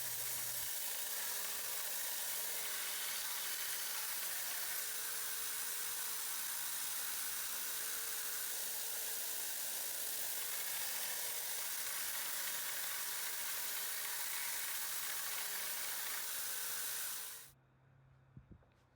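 A belt grinder smooths the bevels of a chef knife blade, a steady loud abrasive hiss that runs unbroken for a long stretch and then stops suddenly, leaving a faint hum.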